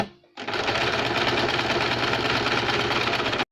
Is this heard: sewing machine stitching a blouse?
yes